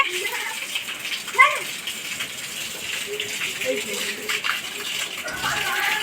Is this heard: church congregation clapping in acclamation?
no